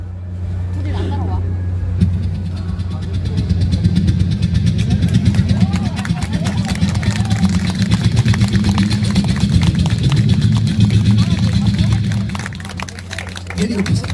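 A street performer at the Busan Jagalchi Market festival imitates a helicopter with his voice, a steady, loud, throbbing low drone sustained for over ten seconds before easing off.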